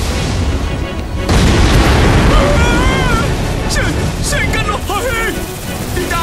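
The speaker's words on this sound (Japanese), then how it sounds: "爆発衝撃波に備えて" A heavy boom erupts in the mecha shooting game Astebreed and rolls into a long, dense rumble, with excited voices talking over the tail of the blast.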